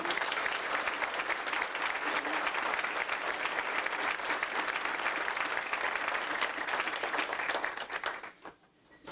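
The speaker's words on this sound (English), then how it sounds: "let's give Sharon a big hand of applause" Homecoming alumni breakfast crowd gives Sharon a warm round of applause, a steady, dense clatter of many hands that tapers off near the end into a brief lull.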